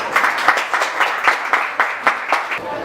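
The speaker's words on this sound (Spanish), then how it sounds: "vamos a dar un aplauso para que ella pueda iniciar" An audience at a book launch applauds, a fairly sparse round of clapping with distinct individual claps pulsing steadily for a few seconds, moderately close.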